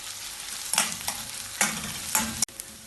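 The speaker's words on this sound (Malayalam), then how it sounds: "കുറച്ച് കറിവേപ്പിലയും കൂടെ ചേർത്ത് എല്ലാം കൂടി ഇളക്കി വഴറ്റാം." Onion, garlic, green chilli and curry leaves sautéing in a pan, with sharp scraping stirs repeating every half second or so over a steady hot sizzle, close and clear with no voices.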